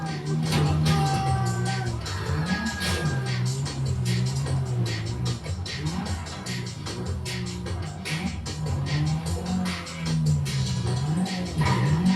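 A getaway car in GTA V drives hard, its engine revving and rising and falling in pitch with occasional tire squeals, loud and continuous throughout.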